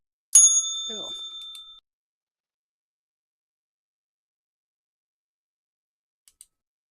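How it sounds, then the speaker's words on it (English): A single bright bell strike closes a live market broadcast, ringing clearly and decaying over about a second and a half, followed by near silence with a faint tick at the end. "Bell."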